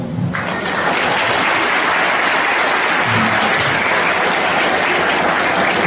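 A seated audience at a personality development training session in Dharmapuri breaks into loud, dense, sustained applause that fills the room steadily from start to finish.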